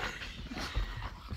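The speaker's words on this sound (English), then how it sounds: "The dogs are excited." Excited dogs greeting their owner arriving home, with short whimpers, yips and snuffling close by, in quick uneven bursts.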